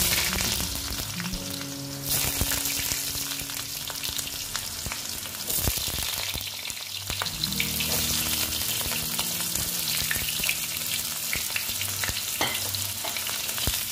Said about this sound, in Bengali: আলুগুলো দিয়ে এবার আমি ভালো মতন ভেজে নেব।